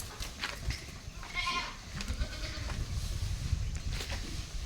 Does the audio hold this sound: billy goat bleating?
yes